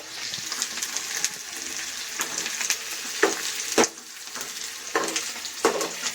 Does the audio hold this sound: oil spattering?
yes